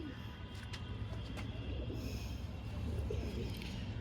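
A pigeon coos softly nearby over a low, steady rumble of background noise.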